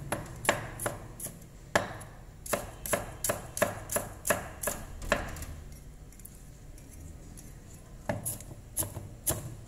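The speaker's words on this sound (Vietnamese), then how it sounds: "Hành các bạn thái ra để mình phi cho thơm cũng được" Knife chopping shallots on a cutting board for a Vietnamese shrimp and pork soup with Malabar spinach, a quick run of sharp, close taps, then a pause, then a few more chops.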